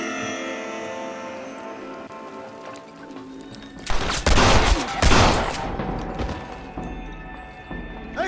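In the Red Dead Redemption video game, music plays, then a burst of loud gunfire erupts midway, several rapid overlapping shots with crashing impacts that fade back under the score.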